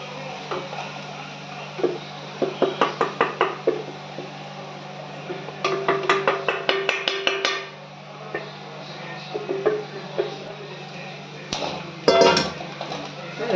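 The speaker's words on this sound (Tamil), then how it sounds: "மாவை கொட்டிட்டு நல்லா கொஞ்ச நேரம் வதக்கணும்" Spoon scraping and tapping against a pan as ragi flour is stirred into sautéed onions for spicy ragi puttu, in bursts of rapid rhythmic clinks separated by pauses over a steady background hum.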